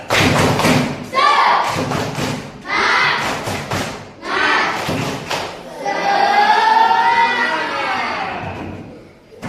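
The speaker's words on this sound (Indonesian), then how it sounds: "Tepuk semangat." A school class performs a rhythmic tepuk semangat spirit clap, loud patterned bursts of clapping in groups with chanted voices, ending in a long cheer.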